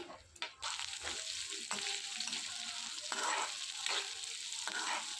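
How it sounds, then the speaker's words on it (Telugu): Carrot pieces and fried peas stir-fry for semiya upma, with a soft, steady sizzle broken by repeated spatula strokes and scrapes at a loose rhythm, close by and with no voices. "ఇందులో కొద్దిగా క్యారెట్ ముక్కలు, అలాగే ఫ్రై చేసిన బఠానీ వేసుకుని ఇవన్నీ కూడా కలుపుకుంటూ ఫ్రై చేసుకోవాలి"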